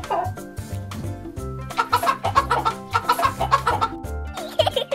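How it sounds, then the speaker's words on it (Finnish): A toy chicken gives a loud, rhythmic run of electronic clucks over a short bouncy tune, the clucks repeating in quick bursts across several seconds. "Kana tykkää syödä maissin siemeniä."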